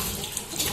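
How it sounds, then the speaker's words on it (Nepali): Tap water runs briefly as hands are washed with soap, a short steady splash into a sink with no voices. "पानी र साबुनले दुआ"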